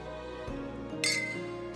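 A single bright clink of glasses touching in a toast in the video game NIKKE, sharp and close, ringing briefly over a low steady background hum.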